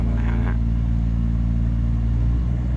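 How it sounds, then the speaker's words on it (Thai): A tugboat's engine drones steadily and loudly while towing a sand barge, with deep rumbling harmonics, running continuously and close by, with a brief higher whine near the start. "นี่เสียงของเครื่องยนต์นะครับ"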